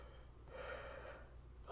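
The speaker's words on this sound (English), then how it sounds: "Oh my god, big yawn." One big human yawn: a drawn-out, breathy exhale of about a second, fairly quiet, with no talking.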